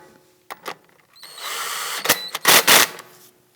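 Power tool snugging down an axle bolt on a 2001-2009 Volvo S60 rear control arm: several short whirring bursts, then a sustained buzzing run and a couple of closer, louder pulses, all near and alone.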